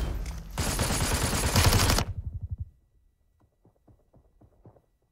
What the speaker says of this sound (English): In real life, good luck surviving AK shots like that.